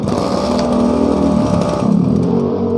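A used Japanese Shindaiwa brush cutter's small two-stroke engine runs steadily and close by after starting, a loud continuous buzzing drone with a slight rise and dip in pitch.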